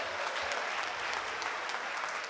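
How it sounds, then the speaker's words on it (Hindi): Audience at a Hindi comedy poetry event applauds steadily, a dense wash of clapping at moderate, even volume throughout. "तालियां एक बार मिलकर बजा दीजिए जोर से।"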